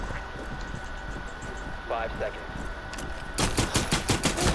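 Pistol shots in a plane combat video game: a rapid run of sharp, loud reports near the end, over a steady engine drone and talk.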